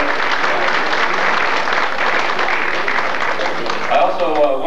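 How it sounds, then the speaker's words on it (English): A crowd at a 1996 celebration-of-life gathering applauds Bill Johnson with loud, continuous clapping throughout, with a voice briefly audible over the applause near the end. "that's okay to applaud for Bill."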